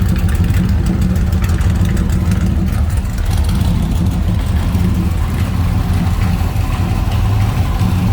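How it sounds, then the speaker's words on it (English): A 1963 Chevrolet Corvette V8 idles through side pipes, a deep, steady rumble continuously at close range, a throaty low burble with no voices over it. "Good sounding V8, especially those side pipes."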